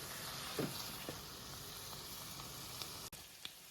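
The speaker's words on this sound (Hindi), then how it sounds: "अब थोड़ा सा चूल्हा करते हैं तेज, तो इसकी करते हैं अच्छी तरह बुनाई तकरीबन 2 से 3 मिनट के लिए।" Palak chicken fries over a high flame, giving a faint, even sizzle with a few soft stirring knocks and clicks scattered through it.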